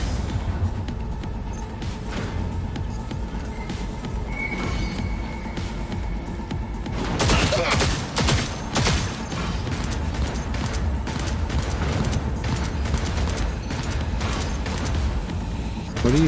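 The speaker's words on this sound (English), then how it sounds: "What are you shooting up there?" Gunfire in Cyberpunk 2077, with bursts of shots and clattering impacts that grow loud midway, mixed with game sounds and a voice talking.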